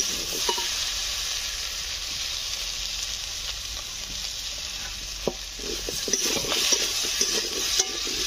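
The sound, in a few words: spices and vegetables being stir-fried in a pan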